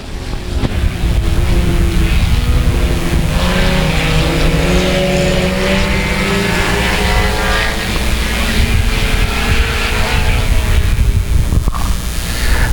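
Race cars roar around the South Texas Speedway oval after the green flag, a loud, continuous blend of several engines droning and shifting pitch as they pass, with a faint announcer's voice under the noise.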